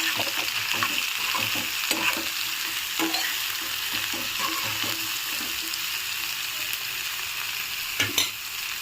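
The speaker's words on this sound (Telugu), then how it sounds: "ఆయిల్ కొంచెం వేడైన తర్వాత మనం కట్ చేసి పెట్టుకున్న సొరకాయ ముక్కలు వేసుకుందాము. ఒకసారి మిక్స్ చేసుకుందాం." Bottle gourd pieces sizzle and fry in hot oil, with steady crackling hiss throughout and repeated scraping stirs of a spoon against the pan, plus a brief louder clatter near the end.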